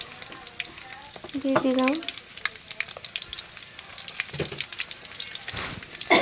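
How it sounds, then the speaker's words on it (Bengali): Crushed small garlic cloves dropped into hot oil with whole panch phoron for a tangy olive pickle, a steady close sizzle with bursts of spitting and a brief spoken phrase early on. "গোটা পাঁচফোড়নগুলো দেওয়ার পরে দিয়ে দিলাম রসুনগুলো ছোট ছোট কোয়া"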